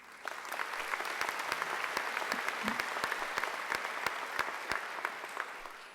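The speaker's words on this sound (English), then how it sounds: "I think she deserves another great round of applause." Warm applause fills a Macquarie University graduation ceremony hall after a singer's performance, a steady wash of many hands with individual sharper claps standing out, continuing evenly throughout without talk.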